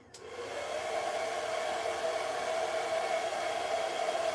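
A hair dryer blows on a wet quick weave, switching on at the start and then holding a steady, loud whirring roar.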